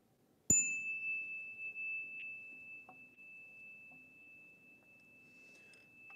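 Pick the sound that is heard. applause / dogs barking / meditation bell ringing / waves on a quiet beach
meditation bell ringing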